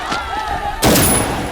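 A sudden loud burst of gunfire cuts in partway through, following a stretch of background noise and faint voices, with a harsh crackling roar afterward.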